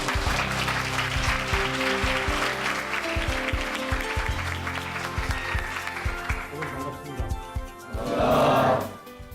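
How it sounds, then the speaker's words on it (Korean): An audience claps to welcome a professor to the stage for a lecture on global leadership, with sustained applause under music, ending in a brief louder swell. "박수로 환영해 주세요."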